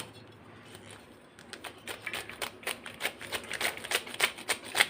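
Green beans being finely chopped with a knife on a board for a Kerala thoran: a quick, close run of crisp tapping cuts that starts after a short quiet pause and keeps a steady, brisk rhythm.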